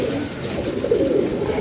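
Pigeons kept by a pigeon fancier coo in a steady, continuous low murmur, several birds overlapping close by with no pauses and no talk.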